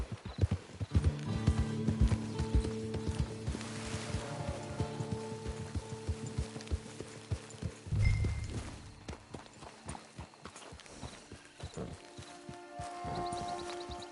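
Horse hooves clip-clopping in the video game Red Dead Redemption 2, a steady rhythmic series of close hoof strikes with a brief snort and some rain-like pattering, one clear burst midway.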